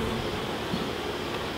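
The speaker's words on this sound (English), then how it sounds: "all the bees are in there, the queen's in there" Honey bees buzzing inside an observation hive during a transfer, a steady, dense hum that stays close and constant.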